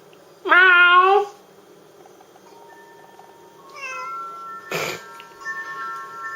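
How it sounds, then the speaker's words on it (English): A cat meows loudly up close in one drawn-out call, then gives fainter, higher meows and chirps against a quiet room, with no talk. "My cat's the best."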